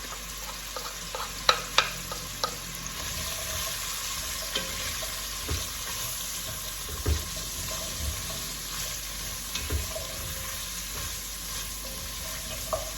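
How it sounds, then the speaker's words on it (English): Onions and garlic frying for coq au vin, stirred in the pan: a continuous close hissing sizzle with a few light spoon knocks and scrapes, steady throughout, with no talking. "Give that a nice stir."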